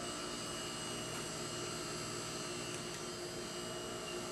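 Low, steady hum filling a room at the Polish Cadet Centre in Buffalo, New York, a constant drone with layered tonal lines, unchanging throughout and heard alone without voices.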